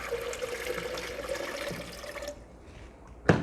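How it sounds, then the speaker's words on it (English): A steady stream of water runs and pours for a couple of seconds, then stops, followed by a sharp knock, close by. "I'll just add more water."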